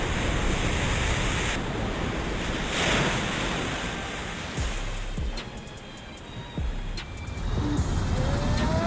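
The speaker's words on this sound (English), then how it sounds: "Huge waves in the Maldives." Loud surf roars continuously as huge waves in the Maldives crash and wash in, mixed with gusty wind buffeting the microphone.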